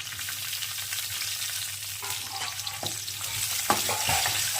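Chillies frying in about two tablespoons of hot oil in a pan for a tempering, a steady hissing sizzle over a low hum, with light scraping and clinks of stirring growing busier toward the end.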